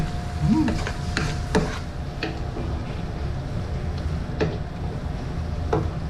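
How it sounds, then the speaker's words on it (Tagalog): Snails (kaloko) are stirred in a cooking pot beside a forest stream, giving soft scraping and clinking strokes at irregular intervals over a steady low outdoor rumble. "Haluin natin mga kaloko."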